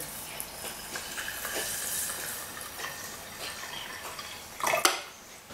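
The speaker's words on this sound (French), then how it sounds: "Tu vas remplir d'eau," Water pours into a glass jar holding a spoonful of sprouting seeds, filling it about halfway. It makes a steady soft hissing trickle, with a brief louder splash near the end.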